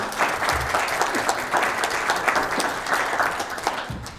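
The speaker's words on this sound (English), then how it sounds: "another round of applause for Dr. Elizabeth Stewart" Audience at a San Diego roadshow applauding a guest, steady close crowd clapping with dense overlapping claps, moderately loud throughout.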